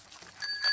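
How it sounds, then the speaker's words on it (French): A bicycle bell rings in a Peppa Pig cartoon, two quick bright dings in under a second, faint and clean with no talk over them. "Et ici la sonnette."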